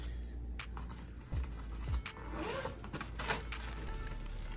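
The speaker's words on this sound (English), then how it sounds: "So you have one zipper right here." A zipper on a Coach diaper bag is pulled open in a few short, close rasping strokes with light handling noise between them.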